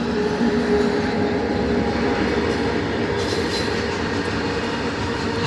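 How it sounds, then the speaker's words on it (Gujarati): A long goods train rolls steadily past close by, a loud continuous roar of wheels and wagons with faint metallic squeals and no voices. "બહુ મોટી ટ્રેન છે"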